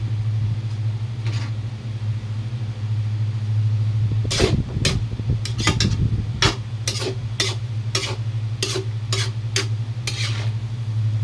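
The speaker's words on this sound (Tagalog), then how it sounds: "halo lang halo mga kois hanggang sa magmix na siya" Utensil stirring sotanghon glass noodles with chicken and vegetables for pancit, a steady low rumble underneath, scraping bursts midway, then a regular series of sharp clicking strokes against the pan.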